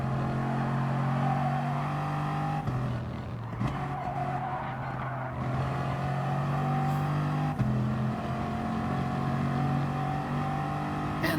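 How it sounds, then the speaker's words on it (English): Bugatti Veyron race cars in GT Sport at Lago Maggiore, steady loud engine drone with tire squeal and gear-shift dips, continuous throughout with no talk. "very fast cars in this race, these Bugatti Veyrons"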